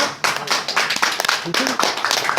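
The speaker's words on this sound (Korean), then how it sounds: "박수 한번 칩시다" A burst of clapping at a tense workplace meeting, quick irregular hand claps packed close together and fairly loud, mixed with voices talking over them.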